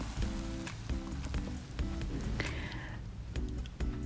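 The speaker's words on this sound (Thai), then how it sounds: "เสร็จแล้วเราจะมาลวนหมูค่ะเอาหมู3ชั้นนะคะมาลวนให้สุก" Pork belly being stir-cooked in a pan: a continuous sizzle with repeated scraping strokes and spatula knocks at a steady rhythm, close and fairly loud, without talking.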